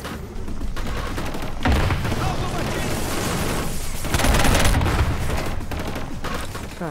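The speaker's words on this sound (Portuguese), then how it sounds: "Caraca, da onde tá vindo esse tiro?" Gunfire in the video game Killzone Shadow Fall: dense bursts and booming shots crackle loudly throughout, while someone talks over the action.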